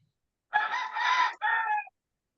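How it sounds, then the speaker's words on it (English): Rooster crowing nearby, one loud cock-a-doodle-doo in two bursts, a long first part and a shorter tail, heard alone against silence. "Oh, rooster."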